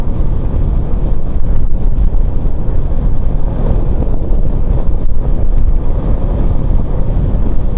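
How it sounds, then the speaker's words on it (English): Strong wind blows outdoors along the Cabot Trail, a loud continuous roar of gusts buffeting the microphone with deep rumbling turbulence that stays steady for the whole stretch, with no voices. "And the wind is calming down just a little bit."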